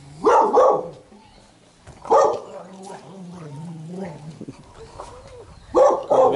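Several sharp dog barks in short bursts, close by, with quieter murmuring and low voices filling the gaps between them.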